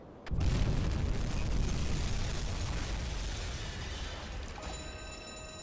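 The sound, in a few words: acoustic homing torpedo explosion in UBOAT video game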